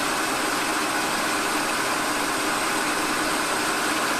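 Turret capstan lathe, driven through a small Yamaha three-speed motorbike gearbox, runs steadily at about 700 revs with a constant loud mechanical whir and hum and no pauses.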